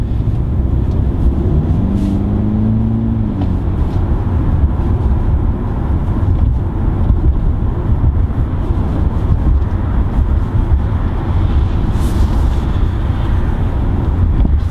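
A 2019 BMW 330i xDrive G20 drives steadily, with constant low road and engine rumble plus wind noise throughout and no talking.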